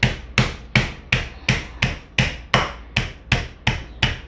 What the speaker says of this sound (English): giving my chicken a pounding and get it flattened a little bit